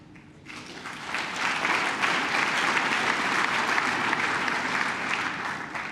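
An audience applauding at an event where U.S. National Security Advisor Susan Rice is speaking. The dense clapping swells quickly after a quiet start and holds steady and loud throughout.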